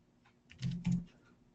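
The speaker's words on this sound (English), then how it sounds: "all you have to do is start typing" Typing on a computer keyboard during a software training session, a short burst of soft keystroke clicks that swells briefly and then fades, heard alone without talk.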